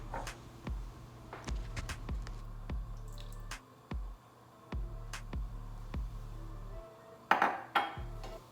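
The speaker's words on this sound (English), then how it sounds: "In our medium heat, you want to stir it until the butter is melted." Butter melting in a saucepan over medium heat is stirred with a spoon, giving soft wet squishes and light metallic taps against the pan in an uneven rhythm, close and fairly quiet with no talk.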